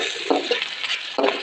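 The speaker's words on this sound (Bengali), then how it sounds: "কিছুক্ষণ নেড়ে মাছগুলো মশলার সাথে ভালোভাবে মিশিয়ে নেব।" Hilsa fish being stirred with spices in a hot pan: a steady close sizzle of frying with a few soft scraping stir strokes, no talking.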